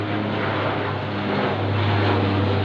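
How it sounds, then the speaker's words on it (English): A small, fairly quiet propeller plane passes overhead outdoors, a steady droning hum that swells slightly toward the end, heard alone. "That's a small, not loud plane."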